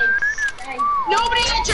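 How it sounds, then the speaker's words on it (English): A person whistles a wavering, sliding tune at close range, and other voices and game noise come in near the end during a trick-shot gaming session. "please stop fucking whistling!"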